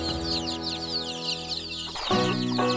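Young chicks cluck and peep steadily at close range while pecking at madre de agua leaves mixed with commercial feed and rice or corn bran, with brief chirps over a constant background.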